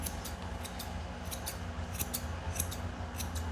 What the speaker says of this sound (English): now we're gonna clip around his toes